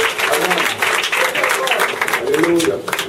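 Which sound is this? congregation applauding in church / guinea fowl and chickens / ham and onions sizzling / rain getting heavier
congregation applauding in church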